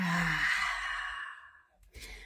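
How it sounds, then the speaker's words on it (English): A long, deep exhale during a breathwork practice, a soft breathy rush that fades out over a second and a half, then a brief quieter breath follows. "Making these your deepest inhales and exhales you've done all day to really cleanse your aura, and exhale it out."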